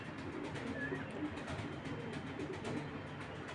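Pigeons at a pigeon market cooing softly, a low burbling coo over steady crowd and street hubbub.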